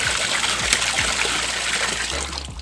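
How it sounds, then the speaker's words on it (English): A koi pond pump pushing water through the filter, giving a steady close rush and trickle of flowing water with splashy texture throughout. "the pump's going to start pumping into the filter and coming out into the blade"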